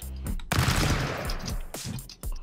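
Rapid AK rifle bursts ring out in the Stick Fight video game, a loud rattling string of shots running almost without pause before a few separate blasts near the end, with no speech.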